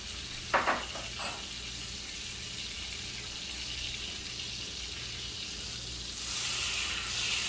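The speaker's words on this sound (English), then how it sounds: "as the butter is melting" Butter melting in a plain pan for alfredo sauce gives a soft, steady low sizzle after a couple of brief clatters at the start, faint and continuous, with no talk.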